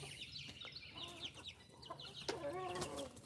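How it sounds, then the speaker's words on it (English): Young roosters cluck and call outdoors, a scatter of faint, quick clucks and short squawks over steady background noise, growing a little busier and louder toward the end. "They must be roosters."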